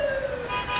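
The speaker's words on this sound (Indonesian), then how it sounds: "Ini suara pemadam kebakaran." A toy steering wheel sounds its fire engine siren, a short electronic wail whose pitch slides and shifts, close and moderately loud, with no one talking.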